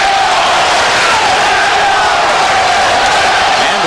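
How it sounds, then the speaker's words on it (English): A boxing crowd at ringside during a heavyweight bout, a loud, continuous roar of massed voices chanting and shouting throughout, with a commentator's voice faintly mixed in. "And the crowd at ringside chanting, Zeljko, Zeljko."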